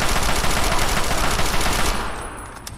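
Rapid automatic gunfire in Fallout 3, loud and close, a dense string of shots for about two seconds that then cuts off into fading echo.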